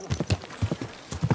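Horse hooves clip-clop in the medieval video game Kingdom Come: Deliverance 2, a close, fairly loud series of paired thuds in an uneven walking rhythm, heard alone without talk.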